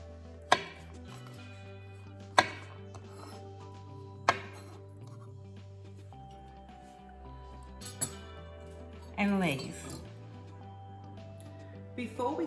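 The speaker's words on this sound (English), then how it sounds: "Chop off the ends" A knife chops off the ends of fennel on a board, giving about four sharp, separate cuts spaced a second or two apart over a low steady hum, followed by a brief clatter.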